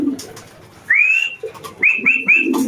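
A racing pigeon that has just landed after a long-distance race calls close by: one longer rising note, then three quick short ones, clear over a quiet background.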